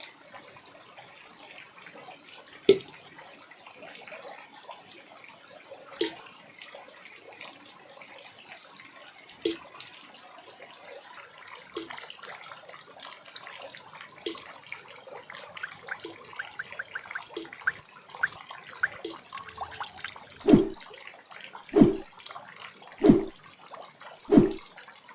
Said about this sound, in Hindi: थोड़ी सी बारिश हुई कि नहीं और घर में पानी की बूंदें टपकने लगे।